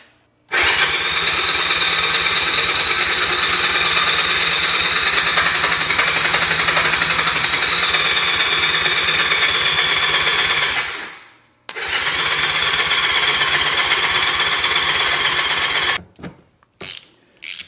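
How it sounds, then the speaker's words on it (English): An ATV engine cranks hard and steadily while power goes straight to its starter solenoid. The loud whirring runs about ten seconds, breaks off, resumes for several more seconds, then stops with a few brief bursts. "I'm just applying power directly to the starter solenoid"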